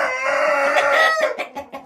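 A rooster crows loudly and close by, one long drawn-out call that breaks into a few short clucks at the end.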